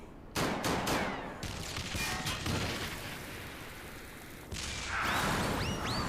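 Gunfire bursts in Final Fantasy XIV: Heavensward, with a sharp volley at the start followed by sustained rattling shots, loud and close, renewing near the end with ringing metallic tones.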